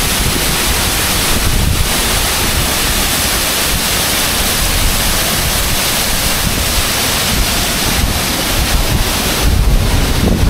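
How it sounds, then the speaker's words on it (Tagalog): A powerful waterfall in Mindoro roars loud and steady, a dense unbroken rush of falling water with wind buffeting the microphone throughout. "Ang falls, ang lakas."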